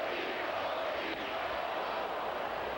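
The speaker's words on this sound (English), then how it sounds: "The Pokey chant going up." A Boston Red Sox home crowd chants for infielder Pokey Reese during a 2004 game against Oakland, a dense, steady roar of many voices filling the ballpark without pause.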